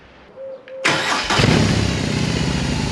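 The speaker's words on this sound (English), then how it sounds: "I'm gonna start the engine" A BMW R18 motorcycle engine cranks and catches at once, then settles into a loud, steady rumbling idle, close by.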